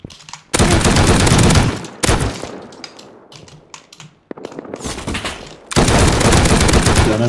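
Rapid automatic gunfire in an online raiding survival game, loud, dense bursts in two long stretches separated by a quieter gap of scattered single shots and muffled noise.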